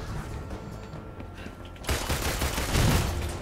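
Turret gunfire in the Marvel's Avengers video game, a dense rapid fusillade that swells sharply halfway through and stays loud and continuous until the end.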